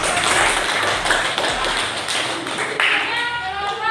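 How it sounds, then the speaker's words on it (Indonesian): A class of eighth-grade students claps for a group in a school lesson, a brief burst of scattered hand claps, moderately loud and close, with talking mixed in. "Tepuk tangan untuk kelompok"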